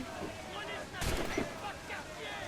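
Ship cannon fire in Assassin's Creed IV Black Flag, a single broad booming blast about midway with a second lighter thud right after, over a steady layer of game ambience and noise.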